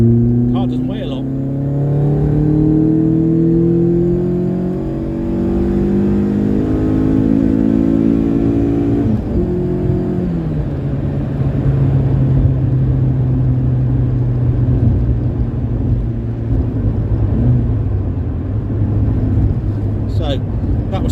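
A Volkswagen Golf GTI Mk2 16v on a dyno pulls hard through third gear to redline, its engine note climbing in a loud, continuous drone before dropping back to a lower, steady roar.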